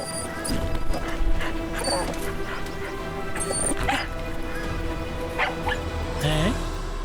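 A cartoon detective dog gives a few short barks and yips scattered among other cartoon sound effects, moderately loud and close.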